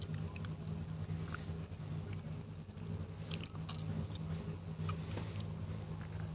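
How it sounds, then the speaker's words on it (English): A Datsun race car in St Kilda colours runs a hillclimb course, its engine a steady, moderately distant hum with a few faint ticks and clicks over it. No voices are heard. "Peter Rogers in the St Kilda Colours Datsun, coming around those hairy bits now."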